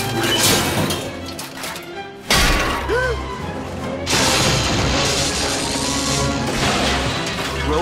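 Glass smashing inside a department store in an animated Superman series: a sharp crash with scattering shards, then loud ongoing breaking and debris noise, with brief voice-like sounds between.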